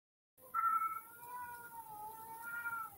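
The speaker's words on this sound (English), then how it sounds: "Can you hear my cat in the background?" A house cat meows in the background, a drawn-out rising and falling cry followed by a softer sustained wail, fairly faint and heard alone without talk.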